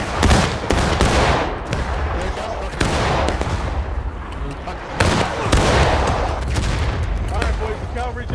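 Civil War reenactment musketry rolls out in scattered independent fire, sharp overlapping gunshots cracking near and far in uneven bursts, with shouted commands and voices mixed in.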